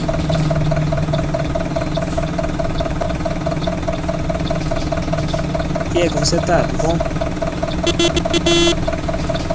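A Mercedes-Benz OF-1721 bus with a Marcopolo Torino body idles with a steady, loud diesel rumble, while someone speaks briefly over it and a few short beeps sound near the end.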